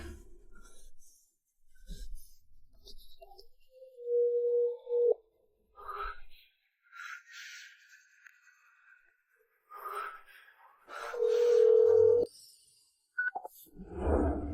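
A telephone call is placed, with two long, steady electronic tones about a second each separated by a pause. Soft clicks and scattered faint rustles sit around them in an otherwise quiet room.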